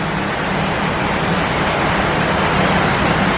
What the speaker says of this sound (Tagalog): the rain is heavy